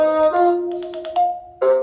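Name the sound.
phone notification sounds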